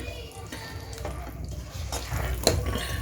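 Cooked kaleji (liver) is served out of a pan with a metal spoon, giving soft scraping and stirring noises over a low sizzle, then one sharp clink near the end.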